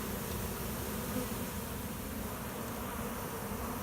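Honey bees swarm around a hive in a dense, continuous buzz that hums steadily and evenly throughout, close and loud, with no voices.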